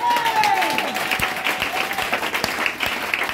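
A church congregation applauds in acclaim of Jesus, a dense, steady wash of clapping from many hands, close and loud throughout, with a sustained cry or tone rising over it near the start.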